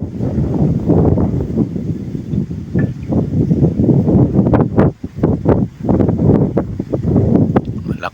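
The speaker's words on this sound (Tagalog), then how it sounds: "malakas ang hangin dito." Strong wind buffets the microphone in loud, gusty bursts, with rustling noise rising and dropping throughout.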